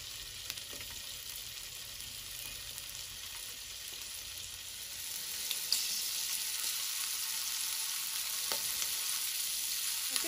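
Food frying in a pan outdoors for a Fourth of July cookout, a steady, faint hiss of sizzling oil that runs on without a break, with a few small pops and no voices.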